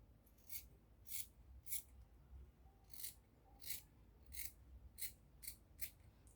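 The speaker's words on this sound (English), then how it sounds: "So now I'm going to go ahead and cut it." Scissors cutting fabric for a flare gown, with a series of about ten crisp snips at a steady, unhurried pace, close but fairly quiet over low background rumble.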